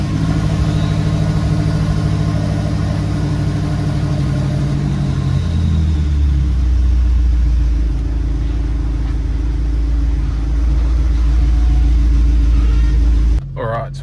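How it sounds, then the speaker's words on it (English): A BMW X5M rumbles along on a short warm-up drive, its engine a steady low drone that deepens partway through as the load changes, then cuts off abruptly near the end. "So now we need to take it for a quick drive, get it up to temp."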